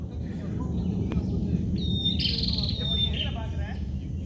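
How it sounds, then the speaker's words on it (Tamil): Bird calls at a wetland reserve: a thin, clear whistled note stretched over about a second, with fainter chirps around it, set against a steady dense background noise. "ஒரு அருமையான பறவை சத்தம்."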